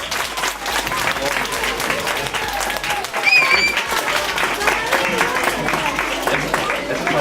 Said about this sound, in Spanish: Darles un fuerte aplauso